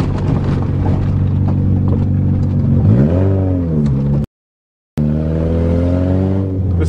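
A Toyota GTS is driven hard across a dusty farm in first gear, its engine roaring loudly and close by, with pitch climbing and falling through revs before a brief cut, then resuming at high load.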